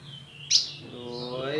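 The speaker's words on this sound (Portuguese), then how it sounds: "Vou ver um filminho aqui do meu filhotinho de azulão." An ultramarine grosbeak (azulão) chick calling, a sharp high chirp followed by thin, wavering begging notes at close range under quiet background.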